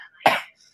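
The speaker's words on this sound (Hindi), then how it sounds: "मौसम खराब है तो इस वजह से खांसी भी हो रही है" A single sharp cough, close and fairly loud, bursts out in a family setting during bad weather, lasting about a quarter second before quiet returns.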